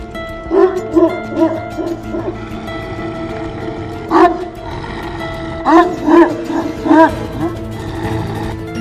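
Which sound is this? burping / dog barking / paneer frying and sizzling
dog barking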